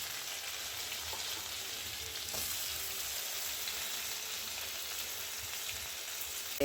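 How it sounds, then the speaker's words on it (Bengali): Onion, chopped garlic, corn and capsicum frying in butter while being stirred, a continuous soft sizzle with faint crackles and light stirring, no voices. "বাটারের মধ্যে একটু পেঁয়াজ, রসুন কুচি, কর্ন একটু আর ক্যাপসিকাম একটু দিয়ে একটু নাড়াচাড়া করে"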